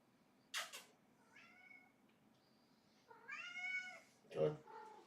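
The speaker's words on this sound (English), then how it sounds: "Oh, a gaming cat has arrived." A house cat meows several times at close range, a short chirp followed by longer drawn-out meows, with a faint background hum and one brief voice-like burst near the end.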